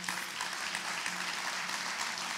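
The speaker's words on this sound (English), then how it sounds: "Big round of applause," Applause at the Scottsdale Forward 2017 event for Elliott, a steady broad wash of clapping from an audience that runs evenly throughout.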